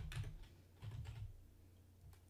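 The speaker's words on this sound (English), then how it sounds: "So let's go ahead and start typing." Quick bursts of typing on a computer keyboard during a software report demo, a few short clusters of key clicks, close and fairly quiet, with no voice.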